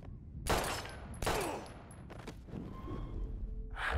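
Gunfire in the video game Life is Strange: two sharp, loud shots a second apart, then a quieter burst of further shots amid game sounds, with no talk.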